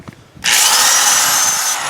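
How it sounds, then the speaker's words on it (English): After a brief quiet moment, a loud, harsh, continuous power-sanding whine starts abruptly and runs steadily, close by, as 80 grit sandpaper strips paint from an Oklahoma Joe's Highland smoker. "I'm using the 80 grit sandpaper"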